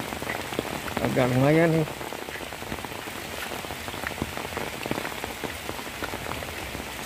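Heavy rain pours steadily on the village of Kampung Cibayur in Desa Ciherang, a dense constant patter on surfaces. Someone briefly speaks near the start over the downpour.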